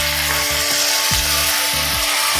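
A spicy chilli paste sizzles and bubbles with a splash of water in a pan for a tengra fish tel jhal, with loud steady frying and several scraping strokes of a spatula, no talk.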